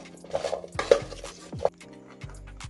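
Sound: mixing seasoned root vegetables and corn in a cooking pot

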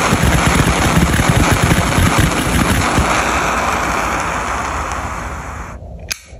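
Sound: jet lighter sound

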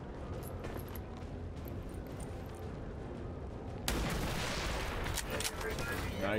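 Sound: gunshot in the video game XCOM 2: War of the Chosen

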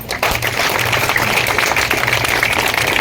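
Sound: audience applause welcoming guests at a film premiere

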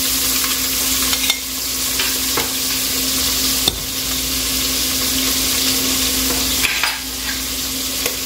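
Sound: frying chicken fillet in pan

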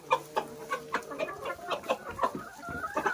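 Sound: chickens clucking

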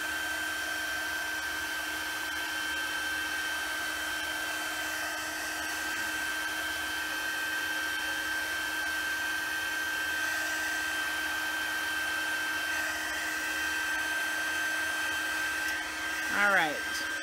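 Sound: heat tool drying paper card from the back

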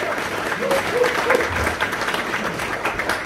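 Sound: applause for a folk band

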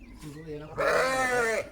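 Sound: sheep and lambs bleating

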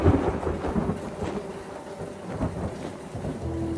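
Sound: rain in a cartoon evening scene

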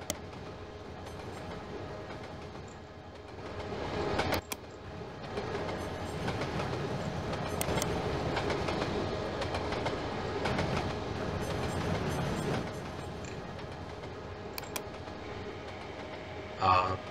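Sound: train running in a video game

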